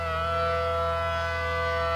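A civil-defense style siren wails continuously in the Roblox game Twisted, a loud, sustained tone that holds steady throughout without any speech.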